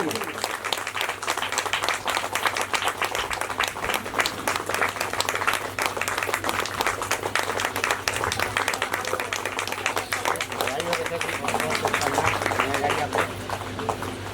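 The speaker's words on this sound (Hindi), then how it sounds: "एक बार जोरदार तालियां इनके लिए।" An audience at an award ceremony claps steadily and continuously, a dense patter of many hands held at an even level, with voices talking over it throughout.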